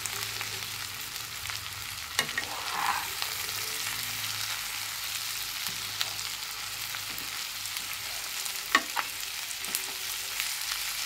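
Chili chicken with turmeric stirred in a frying pan, giving a continuous oily sizzle broken by a few sharp spatula scrapes and knocks against the pan, close and with no talk.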